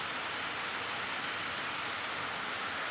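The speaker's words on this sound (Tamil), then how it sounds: "ஆனால் இன்னும் மழை பெஞ்சிக்கிட்டே தாங்க இருக்குது." Steady rain pours down in Kasaragod during heavy flooding, a dense, even hiss of drops that holds at a constant level from start to finish, with no talking.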